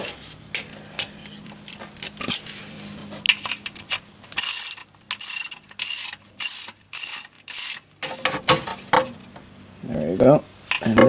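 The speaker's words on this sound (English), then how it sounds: "We're gonna put the bolt back and slowly tighten it by hand," On a 2009 BMW X6 E71 35i, a ratchet clicks in quick repeated bursts while the oil drain bolt is run back in, with someone talking between the spells of clicking.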